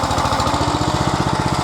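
The engine of a Wolfe Ridge 28C log splitter idles close by with its log lift raised, a loud, steady, rapid chugging pulse throughout with no talking.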